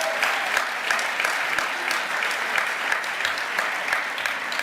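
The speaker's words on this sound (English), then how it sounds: "Let's give ourselves a round of applause" A crowd at an evening gathering applauds itself with sustained, lively clapping, many hands at once with a few sharper individual claps popping out of the steady wash.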